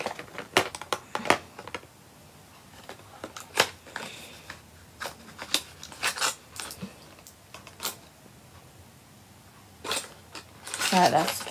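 Irregular clacking taps on a computer keyboard, a sticking key among them, come in scattered clusters and end in a louder flurry, close and crisp.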